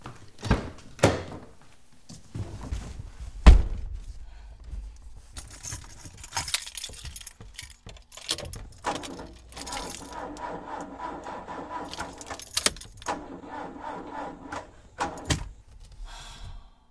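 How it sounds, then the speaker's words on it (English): Keys jangle close by as a car fails to start, with door thunks and clicks mixed in, a sequence of short metallic rattles and knocks rather than a running engine. "My car won't start."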